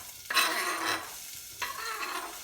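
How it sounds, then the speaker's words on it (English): Vegetables for pepper and sweetcorn soup hit a hot pan and sizzle loudly in two bursts, a strong hiss at first, then a second fresh sizzle as more are stirred in, close and with no talking. "Now, get the vegetables into the pan."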